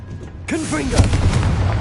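A Confringo fire spell goes off in Hogwarts Legacy, a sudden loud blast with a whooshing burst and a rumbling tail that follows a brief quiet lead-in.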